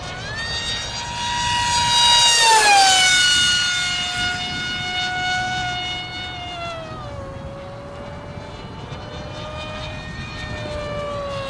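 A Grayson Hobby Monster Jet RC model plane flies overhead, its high-pitched motor and propeller whine swelling loudly as it passes, then steadying into a continuous drone.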